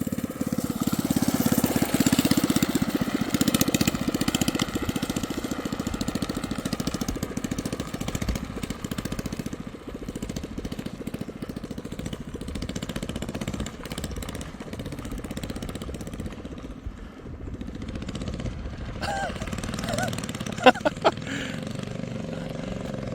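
The small engine of a homemade go-kart converted into a drift kart runs steadily as the kart slides down a road, a buzzy, lawn-mower-like drone that eases off near the end, with a few sharp clicks.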